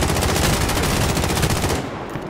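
Sustained automatic gunfire from Call of Duty: Warzone battle royale, a dense rapid burst that is loud and continuous for about two seconds before cutting off.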